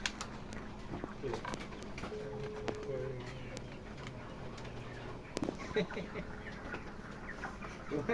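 Chickens on a broiler farm at harvest time cluck and call faintly in a steady background hum, with people talking over them throughout.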